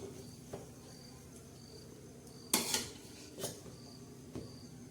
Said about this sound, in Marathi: हे बघा, अशा हलवून खालची वर केलेली आहे.